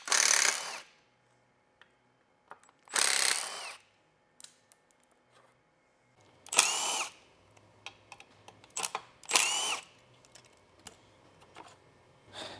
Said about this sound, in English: Now we have our ratchet and a T30 Torx bit. We have some Torx screws that we're gonna remove